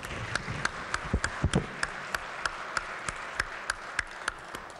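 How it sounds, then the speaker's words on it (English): Applause in a state legislative chamber for newly introduced pages, a steady wash of clapping with distinct individual claps standing out at regular intervals. "please give them a round of applause and welcome them."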